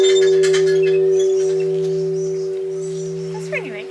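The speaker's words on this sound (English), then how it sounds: "Hit the bell with that?" A bell in a Zen garden rings with a steady, sustained tone that slowly fades over several seconds, close and clear, with a brief voice near the end.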